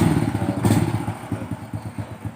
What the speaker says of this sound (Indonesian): bagi pencinta motor klasik terutama yang Honda, yang Grand, ini dia elektrik ya, elektrik starter ya